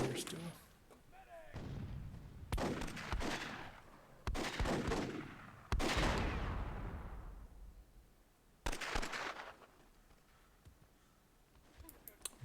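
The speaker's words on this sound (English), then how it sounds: "There's some gunfighting over here still." Bursts of gunfire and heavier cannon-like blasts from a World War II themed battle in the strategy game Myth II Soulblighter, loud booming shots arriving in uneven clusters with quieter stretches between, under intermittent commentary.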